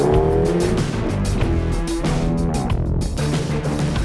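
Mini John Cooper Works hot hatch lapping a race track, engine revving and shifting through gears at a distance with tire squeal, steady and moderately loud throughout.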